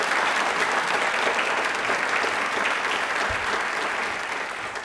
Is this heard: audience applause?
yes